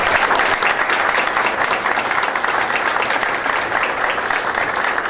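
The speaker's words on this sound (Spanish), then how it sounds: "Un aplauso, por favor." Steady applause from an audience at a talk on political and electoral reform, a dense sustained clapping that fills the whole stretch without pause.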